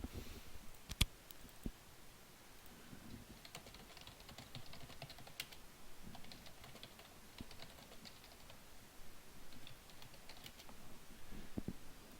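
Faint, quick bursts of computer keyboard typing as a message is written into a ranked 5v5 online game chat, soft irregular clicks with no talking.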